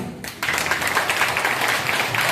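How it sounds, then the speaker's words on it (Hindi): Audience applause at an LDP training program event, a dense wash of many hands clapping that swells in after a brief quiet start and holds steady and fairly loud. "बस इतनी सी तालियां।"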